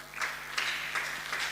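Congregation applauding during a Sunday church gathering, a steady crackle of clapping with bursts that swell and fade across the short moment, no voices over it.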